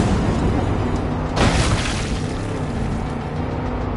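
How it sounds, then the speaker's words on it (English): An explosion in Far Cry 5 bursts out as a loud, rumbling blast near the middle, rising above a constant roaring wash of engine-like noise that continues afterward. "Our hero hits the jump and wham! There's an explosion!"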